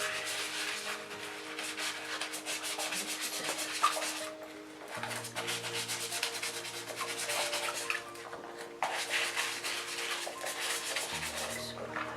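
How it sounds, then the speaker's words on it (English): Steady brush scrubbing of resin or plastic model kit belly plates, a continuous rubbing and sanding-like rasp with brief pauses between strokes, close and fairly loud with no talking. "Give that a big scrub."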